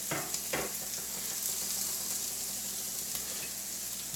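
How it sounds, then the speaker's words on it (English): A handful of cheese sizzles and fries steadily on a hot grill while a breakfast burrito is being cooked, a continuous close crackling hiss with a couple of soft knocks near the start. "take a handful of cheese and just put it on the grill like that"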